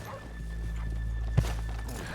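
Horses in Red Dead Redemption 2 give a brief snort or shuffle with a soft thump near the middle, over a steady low in-game ambient hum. No one speaks.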